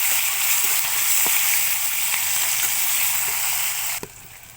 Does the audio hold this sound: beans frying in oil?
yes